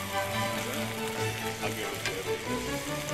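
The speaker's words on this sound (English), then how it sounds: "I just chuck her in. You hear her start to sizzle straight away" Sweet and sour sauce sizzles in a pan with rice and lamb chops, a dense, steady crackle of frying close up that runs the whole time.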